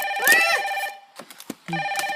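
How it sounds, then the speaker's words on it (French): A red Playmobil toy telephone rings in loud electronic bursts, one long ring, a pause broken by a few soft knocks, then a second ring starting. "Donc on va faire sonner le téléphone rouge"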